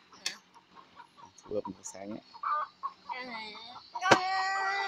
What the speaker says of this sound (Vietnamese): Cái con gà được đuổi à?